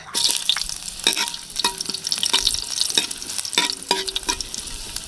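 Ginger sizzles steadily in a hot pan for Filipino adobo, a continuous bright frying hiss broken by the clacks of a utensil stirring, with no talking.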